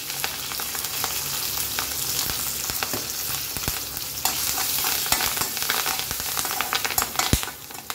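Tempering of urad dal, dried red chillies, curry leaves and asafoetida frying in hot oil, a steady close sizzle broken by the scrape and tap of a spoon stirring the pan.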